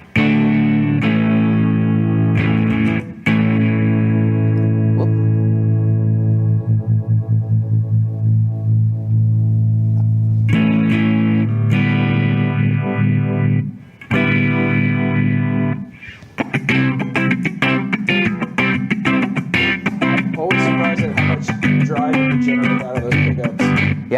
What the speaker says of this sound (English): Now let's check out the liquid phaser.